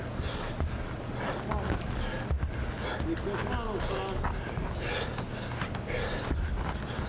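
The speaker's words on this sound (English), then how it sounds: "Hard to tell who that heavy breathing is coming from, or is it both fighters?" Rapid, heavy breathing and gasping from boxers during a bout close by, with scuffling and thuds over a constant background murmur of crowd noise.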